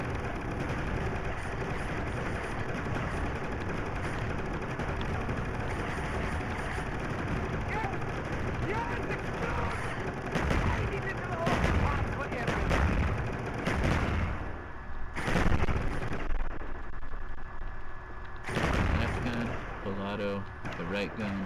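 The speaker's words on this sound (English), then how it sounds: "The right gun, single shot" Gunfire from ZEUS mod weapons in a video game, including dual-wielded guns, rapid loud sustained shots with sharp separate single blasts later, heard alongside a voice talking throughout.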